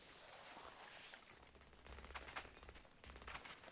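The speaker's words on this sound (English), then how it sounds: "I hear some gunfire" Distant gunfire in the online shooter game Scavengers, with scattered bursts of shots popping far off under a steady background wash.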